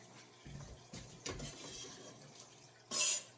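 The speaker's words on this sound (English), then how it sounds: "I just go ahead and pick my cutting board up. And I scoop them off into my pot." Chopped ingredients for chicken noodle soup are scraped off a cutting board into a pot: a few soft scraping knocks, then a brief sharper clatter near the end, close and quiet, with no talking.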